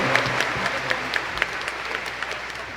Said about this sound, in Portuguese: Vamos acolhê-lo então com uma salva de palmas